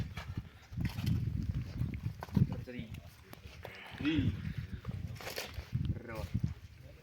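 Hooves of heavy draft horses clip-clop at a steady walking pace, fairly quiet, beneath someone speaking outdoors in a Ukrainian village.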